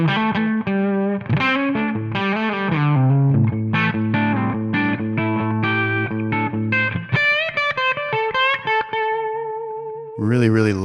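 Distorted electric guitar plays a run of chords and single notes with a roomy reverb tail, loud and up close, ending on a sustained ringing note.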